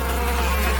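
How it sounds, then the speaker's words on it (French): Bees buzz in a steady, dense drone that fills a brief moment with no pauses, loud and close. "Je pense que les abeilles ne sont pas vraiment d'accord."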